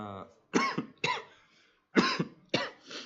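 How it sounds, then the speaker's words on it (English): A close-up fit of coughing: four harsh coughs in two pairs, with short quiet pauses between. "sorry for the coughing"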